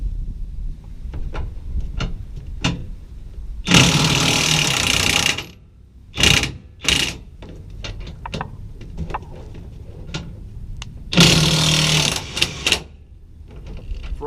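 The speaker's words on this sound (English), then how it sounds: "we're going to see if this new DeWalt has the power to get it off quick." A new DeWalt power tool removes the bedside bolts on a Toyota Tundra, letting out two loud, sustained hammering bursts of about two seconds each, with scattered clicks and rattles between them and no talking.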